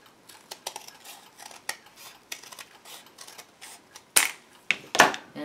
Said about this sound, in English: I'm just going to cut the edge off here because they are too wide as is.